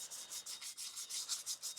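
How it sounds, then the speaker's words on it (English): Sandpaper rubbed by hand over a rusty, pitted metal edge on a Polaris Ranger 800 AWD utility vehicle, about a dozen quick, even back-and-forth scrubbing strokes, close and fairly loud with no talk. "Take a little sandpaper,"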